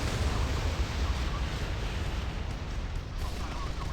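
A strike fighter fires missiles in the naval combat game Modern Warships, producing a dense, continuous roar of overlapping launches and blasts that stays loud and rumbling throughout.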